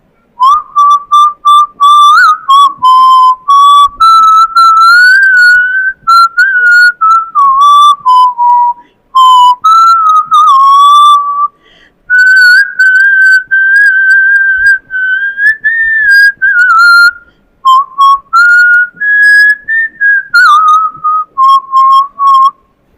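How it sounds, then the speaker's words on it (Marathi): Someone whistles a song as a loud, clear, sustained melody, with pure tones gliding up and down through phrases separated by brief breaths, alone and without other sounds. "मी शिट्टीतून गाणं म्हणून दाखवणार"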